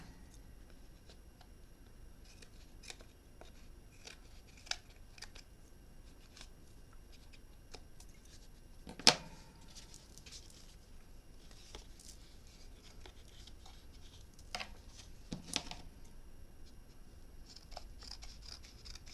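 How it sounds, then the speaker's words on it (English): Quiet, scattered snips and small clicks of scissors cutting, irregular and close, over a faint background hiss. "Scissors here."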